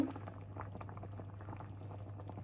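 Fish soup simmers in a pot, soft bubbles popping in an irregular, continuous patter close by, low-level and without any talking.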